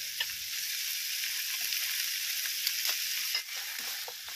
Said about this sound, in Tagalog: Haluin lang ito ng mabuti